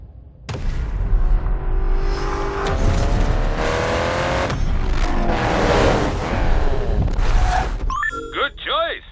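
Racing-game car engines revving and accelerating hard, with the GNX, Honda S2000 and other cars roaring past, rising whines, tire squeal and skids in a loud, continuous stretch before a burst of electronic chirps at the end.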